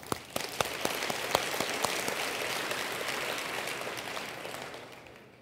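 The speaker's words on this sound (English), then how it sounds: "and one more round of applause, I think." Audience applause fills a large hall at a conference's opening plenary session, a dense wash of many hands with a few sharp claps up front, steady and then slowly fading out.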